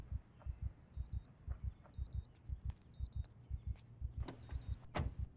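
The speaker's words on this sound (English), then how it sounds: "There was a beeping, like an alarm." A digital watch alarm in the survival game Project Zomboid gives quiet, high, clipped double-beep bursts about once a second, four times, over a steady low thumping pulse.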